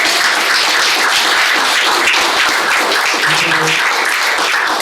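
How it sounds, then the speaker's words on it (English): Sustained audience applause in a public library hall during a jazz panel discussion, a thick wash of many hands clapping continuously and fairly loud throughout. "please give a big round of applause to the Long Beach Public Library"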